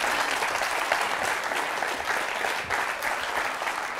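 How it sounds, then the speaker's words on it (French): A TV studio audience applauds guests on a French emotional-stories show, dense steady clapping from many hands filling the room for the whole stretch, loud and continuous. "On peut les applaudir très très fort."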